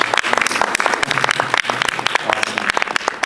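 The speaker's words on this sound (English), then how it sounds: "Can anyone please give her a round of applause again?" Round of applause from an audience at a student pre-medical club general meeting, loud, close, continuous clapping with crisp individual hand strikes throughout.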